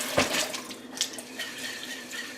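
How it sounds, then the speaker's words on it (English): Water running and splashing as soaked mung beans are rinsed and drained in a jar, a close, irregular pouring and trickling with a few sharper splashes, no talk. "we're going to drain them. And then we're going to give them another quick rinse"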